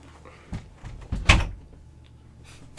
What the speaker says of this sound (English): Pull out your sword, shut the door.